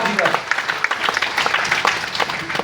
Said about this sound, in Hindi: तुम लोग ताली बजाओ, बजाओ अपने लिए ताली।